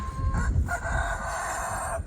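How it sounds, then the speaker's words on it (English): A rooster crows once on an icy day, a long drawn-out call close by, rising then holding steady before cutting off. "Glenn, open your mouth when you crow, seriously."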